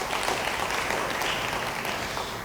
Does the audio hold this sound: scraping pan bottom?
no